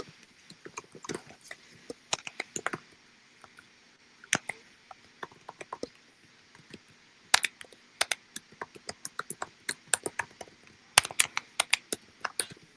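Someone types quickly on a computer keyboard, a close, dry clatter of uneven bursts of key clicks with short pauses between them, and no talk over it.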